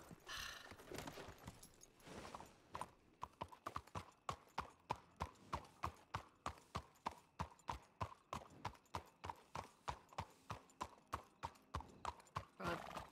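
Video game horse hooves clip-clop in a steady, even rhythm, a horse walking at a measured pace, with a brief whinny and some talk near the start.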